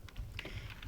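Several quick keystrokes on a computer keyboard as a short shell command is typed, a handful of soft, close clicks spread over under a second with no voice.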